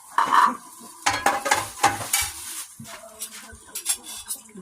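Coconut milk poured over fish cooking in a pan, with a splash and sizzle followed by scraping and stirring against the pan, close and fairly loud, with no talk.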